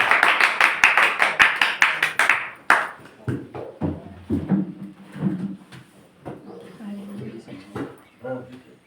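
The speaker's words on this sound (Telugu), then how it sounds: "అందరూ కూడా చప్పట్లు పెడుతూ దైవశాస్త్రంగా ఆహ్వానిస్తాను" Congregation clapping together during a Sunday church service, a dense burst of applause for about three seconds that stops abruptly, followed by someone speaking with faint room noise.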